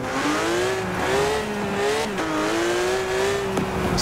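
A Porsche GT3 RS in Forza Horizon 4 holds a high, wavering engine whine with some tire squeal, steady and loud throughout with no talk.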